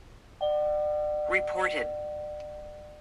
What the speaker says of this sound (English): let's go ahead and see what the mild tone sounds like on KA band